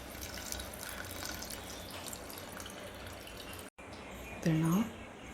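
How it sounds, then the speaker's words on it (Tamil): Water is poured into a pot of tiffin sambar being cooked at home, making a soft, steady trickle that stays faint and close, with a brief clinking near the end. "நம்ம தண்ணி ஆட் பண்ணிக்கலாம்."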